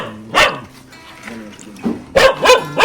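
A dog barks several times nearby, sharp repeated barks over a background of murmuring voices.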